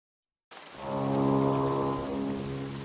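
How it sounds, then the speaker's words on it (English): A deep, sustained foghorn in the farming video game Grimshire swells up after a moment of silence, holding a steady, droning tone over a bed of rain. "I don't like the sound of that horn."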